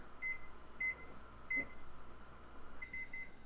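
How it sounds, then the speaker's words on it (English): Oven timer beeping while being set for a cake bake, a series of short, bright electronic beeps at irregular intervals over a steady low appliance hum, close by with no talking. "Let me set the timer."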